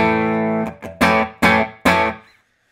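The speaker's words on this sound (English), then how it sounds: "T57 Telecaster into the Morgan RCA 35." A T57 Telecaster electric guitar played clean straight into a Morgan RCA 35 amp with no pedal: a sustained loud chord, then several strummed chords ringing out and fading to silence.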